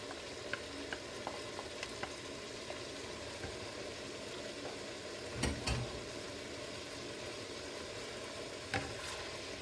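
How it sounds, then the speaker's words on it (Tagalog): Bulgogi sauce hits a hot pan of shrimp and buttered garlic, giving a steady frying sizzle with occasional stirring clatters and a brief louder burst midway, close and continuous with no voices. "At ngayon ibuhos na natin ang ating bulgogi sauce."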